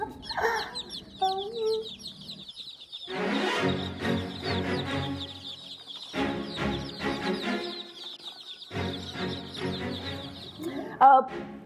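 Chirping and clucking of chicks and chickens playing from a video, busy overlapping peeps and clucks in several stretches separated by short gaps, moderately loud and close.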